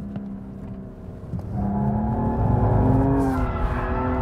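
BMW M235i engine held at full throttle around 6,500 RPM while drifting, a loud sustained rising roar with harmonic whine that swells after a brief lighter opening, close and steady with no talk.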